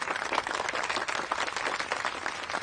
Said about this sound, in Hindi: चंदा के लिए ताली बजा दो एक बार